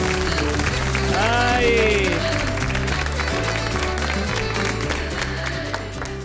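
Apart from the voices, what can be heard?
studio audience applauding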